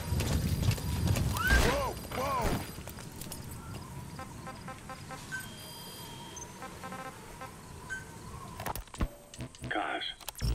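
A horse in Metal Gear Solid V: The Phantom Pain gives a couple of loud whinnies up close, then hooves clip-clop at a steady trot under game ambience, with a few scattered sharp clicks near the end.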